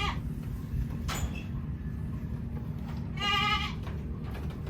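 A goat on a farm, one being treated for goat polio and tetanus, gives a clear bleat near the end over steady low background noise, with a softer call earlier.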